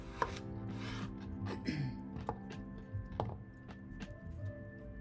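Knife chopping golden petite potatoes on a cutting board for a garlic parmesan sheet pan chicken dinner, a series of sharp irregular thunks and taps, moderately close, with no talk over them.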